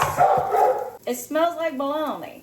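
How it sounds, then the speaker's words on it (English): A puppy barks and yips close by in a few sharp, rising bursts, partly overlapping a person talking indoors. "I apologize about the puppy barking."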